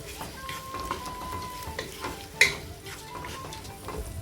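Vegetables frying in a pan with Kashmiri chili powder are stirred for a Kerala-style vegetable pulao, giving a quiet, steady sizzle with soft scraping strokes and one sharper clink midway.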